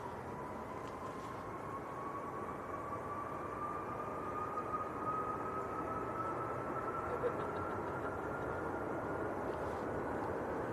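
An airliner departing Manchester Airport on a long-haul flight to Beijing gives a steady, broad roar with a slowly rising whine, sustained and fairly distant under windy conditions throughout.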